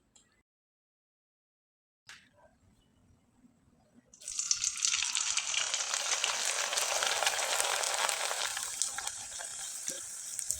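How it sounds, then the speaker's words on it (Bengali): Dried reshmi pitha drop into hot oil, and after a faint knock and near silence a bright, loud bubbling sizzle starts up and keeps going steadily. "এখন আপনাদের কয়েকটা পিঠা আমি তেলে ভেজে দেখিয়ে দিচ্ছি"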